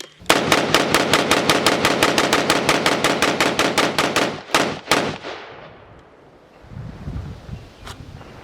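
A Cru Arms Temp 556 piston-driven rifle, a Canadian AR-180 type, fires Fiocchi ammunition outdoors. It lets off about thirty sharp shots in a rapid, even string, then two last cracks, and quiet wind and rustling follow.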